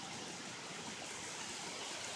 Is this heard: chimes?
no